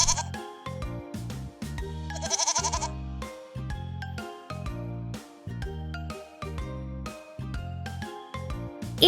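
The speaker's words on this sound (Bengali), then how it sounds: "ছাগলরা ম্যা ম্যা শব্দ করে।" Goats bleat repeatedly in a farm setting, each bleat set against a rhythmic musical backing that pulses evenly throughout.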